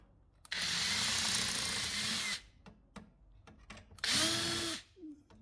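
A handheld power drill bores into a small workpiece for a spot welder build in two loud whirring bursts, each lasting a second or more, with clicks and handling knocks between them.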